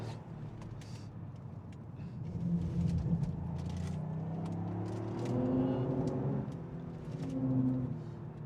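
Heard from inside the cabin, a Toyota GR Yaris with a 261-horsepower engine accelerates, its moderately quiet engine note climbing in pitch through several successive pulls, with no one talking.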